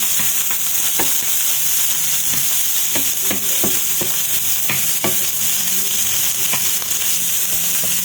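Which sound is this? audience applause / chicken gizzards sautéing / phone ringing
chicken gizzards sautéing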